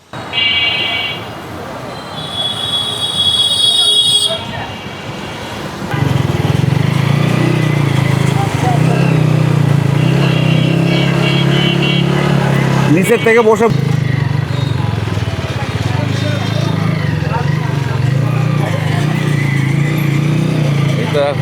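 A modified Lifan KP150 150cc motorcycle engine idles and runs steadily with a constant low drone, while people talk nearby over it.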